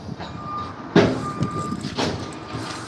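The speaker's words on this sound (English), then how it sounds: "that is our FedEx truck switching out trailers" A FedEx truck switching out trailers at night, with a steady reversing beep tone sounding repeatedly in the background alongside intermittent louder mechanical thumps and clanks.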